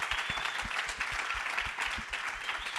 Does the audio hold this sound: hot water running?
no